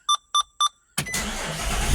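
Nissan Xterra engine cranks and catches after three short chime beeps, then settles into a steady, loud idle running on its own.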